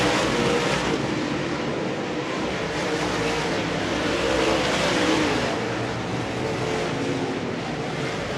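Race cars lapping Lakeside Speedway during a memorial main event produce a steady, loud engine roar that swells and fades slightly as they pass, with no talk over it.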